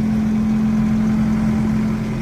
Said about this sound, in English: Good clean engine, no leaks.